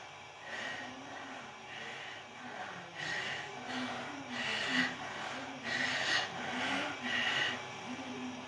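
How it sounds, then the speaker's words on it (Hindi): A yoga instructor breathes heavily during a rope-pulling exercise, with a rhythmic series of forceful inhales and exhales repeating about every second, close to the mic and fairly quiet. "मेरी सांसों की आवाज आप तक आ रही होगी"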